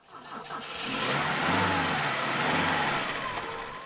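A powerful turbocharged Formula One racing engine roars up and holds a loud, sustained, buzzing drone for a few seconds, close by, with no talking.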